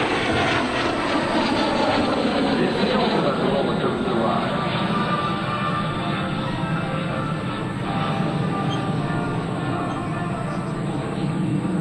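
An L-39 jet roars steadily and loudly through an aerobatic display at an air show, a continuous engine drone with a public-address voice talking faintly under it.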